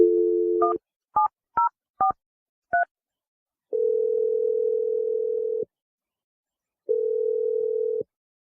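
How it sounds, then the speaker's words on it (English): A landline telephone dialing a number: a steady dial tone cuts off into five short, evenly spaced touch-tone key beeps, followed by two long, loud steady tones, all alone with no talk. "I'm going to dial the phone number."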